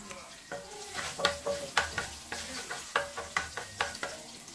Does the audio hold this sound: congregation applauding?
no